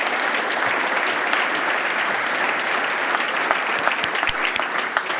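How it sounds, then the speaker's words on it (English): A seated audience at the inauguration of the Raleigh Tech and Innovation Hub claps: steady, dense applause from many hands, sustained throughout and fairly close. "Now give the three of them a round of applause."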